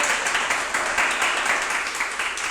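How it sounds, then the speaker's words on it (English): Audience applause for Chairman Omali Yeshitela at a reparations lecture, a steady dense wash of clapping sustained evenly throughout without pause. "Applause for Chairman Omali Yeshitela and that brilliant study."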